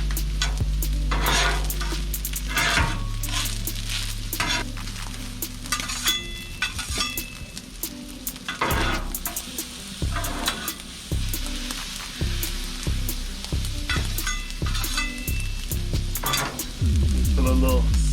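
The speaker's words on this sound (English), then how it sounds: "I'm gonna put some sesame oil on the rice" Rice with sesame oil stir-fries in a hot pan for shrimp fried rice, with loud sizzling and repeated metallic scrapes and clinks of a spatula against the pan in an uneven rhythm, close up.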